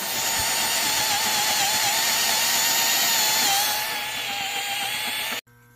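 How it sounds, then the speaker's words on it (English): A loud, steady high-pitched whine of a power drill boring through a thick metal forklift fork, running continuously before cutting off abruptly. "so we're just going to drill a hole"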